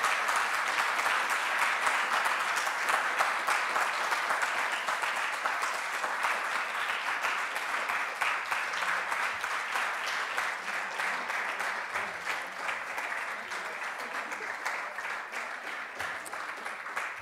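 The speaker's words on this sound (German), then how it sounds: "Das ist euer Applaus." Sustained audience applause thanking the organisers at the close of a networking day, dense steady clapping that continues evenly throughout and eases slightly toward the end.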